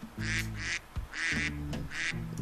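Cartoon ducks quack in the Bernd das Brot video game, four loud, close nasal quacks in an even rhythm with brief gaps between them.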